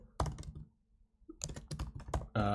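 Bursts of quick clicking keystrokes as code is typed on a computer keyboard, with a brief pause between flurries, close and fairly quiet, ending on a sustained tone.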